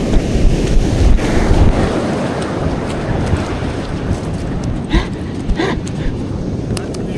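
Ocean surf breaking on a beach during surf fishing, with broadband wash and strong wind buffeting on the microphone, steady and loud throughout.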